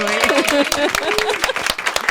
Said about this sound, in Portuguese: Palmas pra gente!